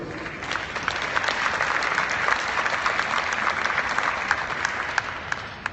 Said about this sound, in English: Please welcome, with a round of applause